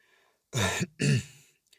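A narrator imitates a soft cough with his voice: two short, muffled throat-clearing bursts in close succession, close and fairly loud, followed by a tiny faint click.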